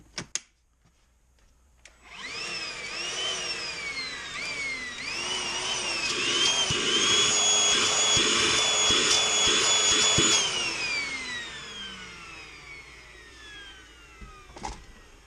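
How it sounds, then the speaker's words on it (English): Milwaukee M18 compact cordless vacuum switching on with a rising motor whine, running steadily at close range with pitch wobbles, then spinning down after the motor cuts off; a few clicks at start and end. "Seems to have some decent vacuum."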